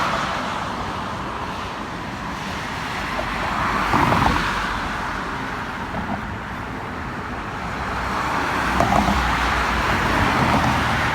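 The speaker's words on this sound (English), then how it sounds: "This amount of traffic is pretty common" Steady road traffic on 2nd Street in Coralville near the 12th Avenue intersection, cars rolling past continuously with louder passes swelling around the middle and end, recorded from a bike trail alongside.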